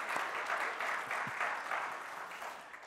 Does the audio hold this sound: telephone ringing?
no